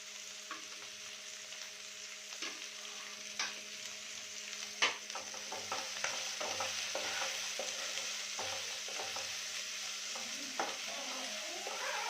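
Upma stirred in a pan over a continuous frying sizzle, with scraping strokes and clinks coming at irregular intervals, close and with no voices.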